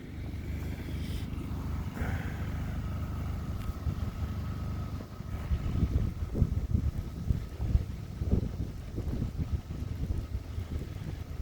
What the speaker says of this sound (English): It's got some very strong gusts.